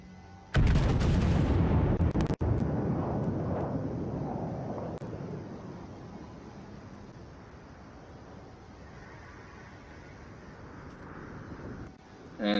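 Battleship turret guns fire in a World of Warships naval battle involving the Yamato: a sudden huge booming blast opens, a sharp crack follows, then a long rumbling roar decays slowly under steady wind-like noise.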